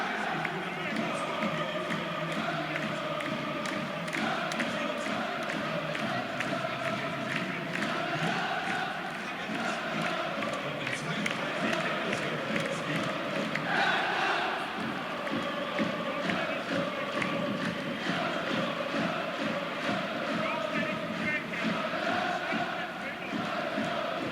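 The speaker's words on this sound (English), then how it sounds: "The Hertha Ultras clapping continued, then jovially jumping in perfect unison." Hertha Berlin ultras in the stands clap in rhythmic unison and jump together, a thick, constant roar of crowd noise with steady pulsing beats running through it.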